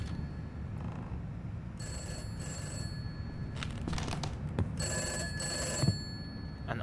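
An old telephone bell rings in the horror video game Summer of '58, bright metallic trilling bursts coming in separated rings over a low ambient drone, fairly faint and with no one talking.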